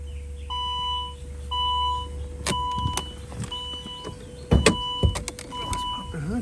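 A steady thin whine from a leaking vacuum pump under the hood of a 2009 Saab 9-3 Aero XWD runs beneath repeated electronic chime beeps and clicks from inside the car.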